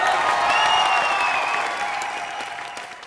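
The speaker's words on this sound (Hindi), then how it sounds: "जोरदार तालियां हो जाए।" An audience bursts into loud applause at a comedy show, a dense wash of clapping that swells briefly and then gradually fades over a few seconds.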